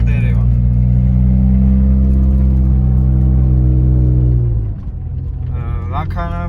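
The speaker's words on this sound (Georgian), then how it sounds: "და ძრავიც ერევა, ასე რომ ვთქვა, თავის თავს ლოუთი მივდივართ ახლა" A Mitsubishi Pajero iO engine labors steadily up a hill in low gear, a loud, continuous drone that drops off sharply near the end, with speech over the final seconds.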